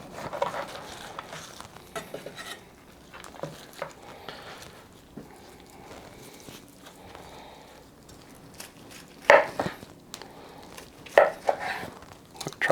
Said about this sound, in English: Let's cut it and see what we got.